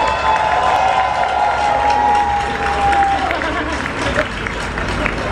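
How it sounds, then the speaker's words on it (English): A large event audience applauds and cheers, a dense roar of clapping and shouting voices that stays loud and steady throughout, with a faint tone running through the first part. "George Lamar, give him a big round of applause."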